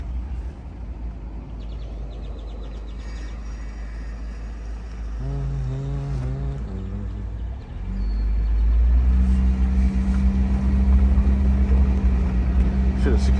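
A 1995 Geo Tracker driving with a wobbling back tire: steady engine and road rumble that grows louder and heavier partway through, with people talking inside the vehicle.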